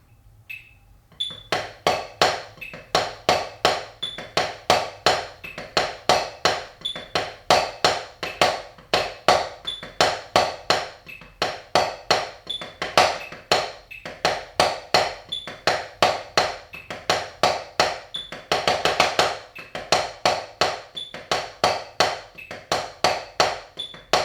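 A steady pattern of sharp taiko drum strikes over a faint metronome beep, rhythmic and close, repeating evenly throughout with no talking.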